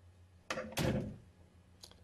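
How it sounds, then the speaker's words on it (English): A door fitted with a round knob lock is worked near at hand, giving a sharp click followed by a heavier latch thunk, then a faint click a moment later. "I will go ahead and test the door to make sure it works."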